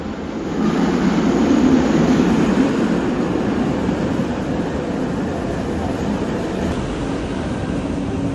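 A metro train on the KJ line rumbles into a station in Malaysia with a steady roar that swells and then holds, loud and close, with no one speaking.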